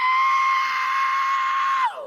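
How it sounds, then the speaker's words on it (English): A goat lets out one long, loud, sustained scream, steady and almost human-sounding, that slides downward in pitch as it breaks off at the end. "The goat sounds like James Brown"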